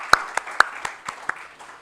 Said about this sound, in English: we can just give her an applause.